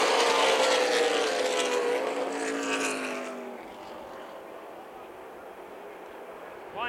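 ARCA stock cars roar past on the Toledo Speedway oval after a restart, a loud pack of engines sweeping by in the first half and then fading to a distant drone.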